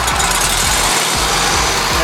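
A stump grinder's engine runs steadily at idle, a loud continuous rumble with no talk over it, before the throttle is raised and the blade engaged.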